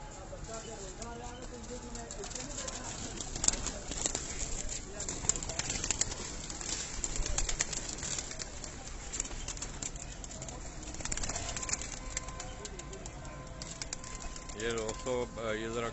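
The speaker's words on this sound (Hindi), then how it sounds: "नर कबूतर उनके।" Pigeons cooing in soft, throaty repeated calls amid faint flutters and shuffling, while someone talks over them much of the time.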